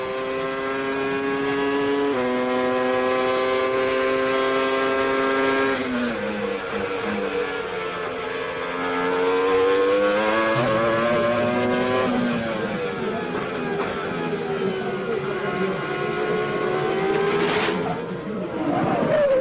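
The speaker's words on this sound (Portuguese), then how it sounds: "Você sentiu ali o piloto conduzindo nessa pista de altíssima velocidade, o giro do motor lá em cima, depois a freada para a curva" A Formula 1 race car at the 1998 German Grand Prix revs its engine to a loud, high whine, then drops pitch sharply under braking and climbs again, the sustained engine note rising and falling through the gears.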